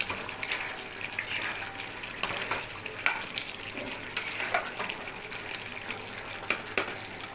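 Food with garam masala sizzles and fries in a pan while a spoon stirs it, giving steady crackling with repeated scraping clicks and taps. The sound is close and even, with no voices.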